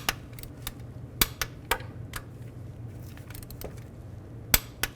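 A torque wrench clicks and metal taps sound sharply as exhaust manifold nuts on a Chevy Tahoe are tightened, scattered distinct close clicks over a low steady hum.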